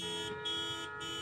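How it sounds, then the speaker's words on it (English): Car horns honk in busy Indian street traffic, a steady blaring tone with two short gaps, heard at a distance amid the hum of the road. "The horns are honking and the smells, all the spices"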